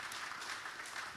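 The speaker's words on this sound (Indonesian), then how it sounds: "boleh kita beri tepuk tangan untuk Pak Erick Thohir" Brief burst of audience applause for Erick Thohir at a BUMN event, a steady wash of clapping filling the short moment with no voices on top.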